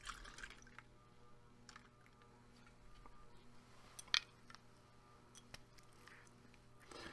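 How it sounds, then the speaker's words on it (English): Champagne poured into a glass: faint liquid trickle and fizzing drips with a brief sharp clink partway through, quiet and close in a still room. "All right, pouring more champagne."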